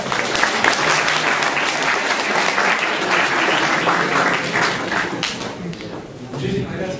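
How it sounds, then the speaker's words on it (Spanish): Audience members at a university debate on behaviorism versus humanism clap for a speaker being introduced, a sustained, full round of applause that thins slightly toward the end, with some faint voices mixed in. "Aplausos, por favor."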